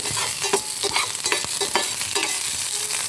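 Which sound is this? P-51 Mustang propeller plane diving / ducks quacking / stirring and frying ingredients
stirring and frying ingredients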